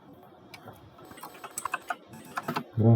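Keys clack on a computer keyboard in an irregular burst of quiet, close taps that gather pace toward the end, with a louder low thump closing the stretch.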